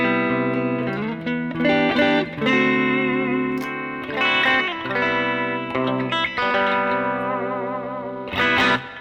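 An electric guitar plays through an Axe-FX effects preset, giving sustained, chorused and echoing chords with light distortion. Several strummed phrases follow one another, loud and close, with no voices.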